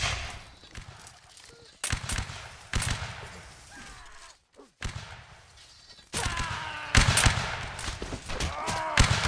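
Musket fire in a Napoleonic Wars line-battle video game: sharp single shots and ragged volleys crack at irregular intervals, some close and loud, others more distant, while players talk.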